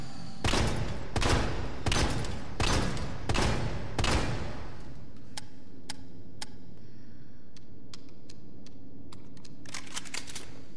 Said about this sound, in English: just to demonstrate, the 6-round capacity 12-gauge pump-action shotgun